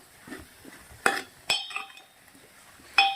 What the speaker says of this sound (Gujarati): ભાજીને આપણે આવી રીતે થોડું ચમચા વરણે દબાવી દઉં છું.